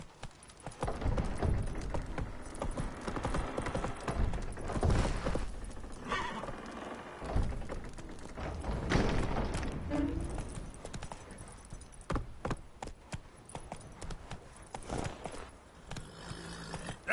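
Roach the horse from The Witcher 3: Wild Hunt, hooves pounding in a fast gallop, rhythmic and busy with rising and falling intensity and occasional snorting, over a noisy in-game backdrop.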